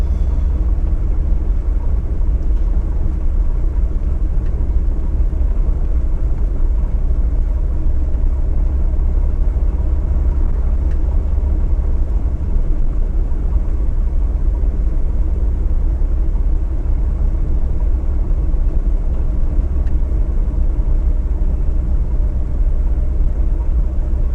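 A car driving along a mountain road in Jamaica, steady loud engine rumble and road noise from inside the vehicle, unchanging and continuous, no voices.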